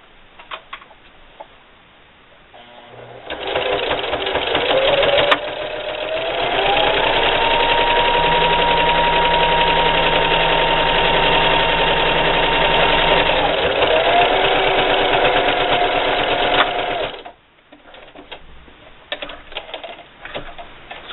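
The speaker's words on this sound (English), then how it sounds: "if you have a walking foot, it really helps grab that fabric and pull it through" A sewing machine fitted with a walking foot topstitches fabric for a bandana bib, giving a close, steady mechanical whir. The motor speed shifts slightly mid-run, and brief handling noises come before and after the stitching.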